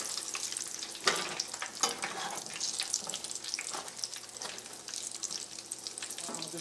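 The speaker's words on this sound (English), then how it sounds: "Just finished frying up the eggplant." Breaded eggplant slices, dipped in egg wash and Italian breadcrumbs, sizzle steadily in hot oil, a continuous bright crackle with scattered louder pops, close and with no talking.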